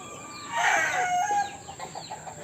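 Backyard chickens crowing and clucking, a rooster's crow rising loud near the middle with softer clucks trailing after, close by and alone.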